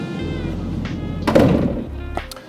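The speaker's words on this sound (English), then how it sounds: "Let's open this door." The entry door of a Tranquility 19L travel trailer opens with a single muffled thunk and a brief rattle partway through, close by, over a steady low hum.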